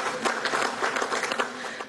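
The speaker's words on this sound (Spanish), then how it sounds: "让我们用热烈的掌声对上述协议的签署表示祝贺。" Warm applause breaks out at an official China–Venezuela high-level commission ceremony to mark signed agreements, a dense patter of many hands clapping indoors for a couple of seconds.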